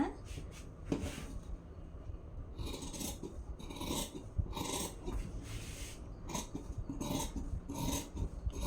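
Scissors cut through blouse fabric for a princess-cut blouse, giving a series of close, crisp snips in uneven bursts with quieter fabric rustling between them, under a soft voice.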